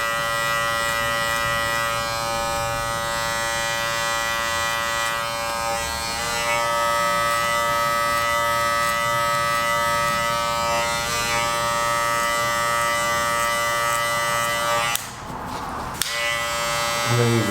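Electric hair clippers fitted with a 1.5 guard, used open with a flicking motion while cutting a mullet, hum steadily and close throughout with a bright buzzing whine, talk running over it and a short rustling burst near the end.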